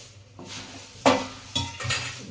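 Puffed rice (mamra) being stirred in a kadai with the gas off, giving a few close scraping, rustling strokes of a spoon against the metal pan, with no voices.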